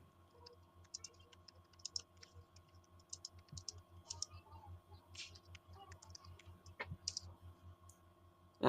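Rapid keyboard typing of a ChatGPT prompt: a steady run of light, close clicks over a low, constant electrical hum, with no voices.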